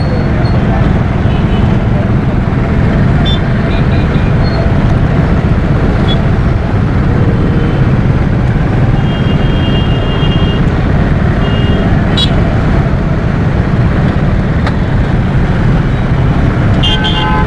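Dense city traffic at a busy Pakistani road junction roars loudly and continuously, with engines rumbling up close and several short car horn toots breaking through the din.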